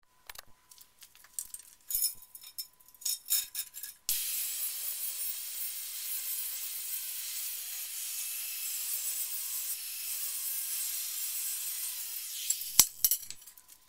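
Side pieces and a straight back piece for a custom golf cart bed being cut, a steady hissing roar running for about nine seconds after a few scattered clicks and knocks.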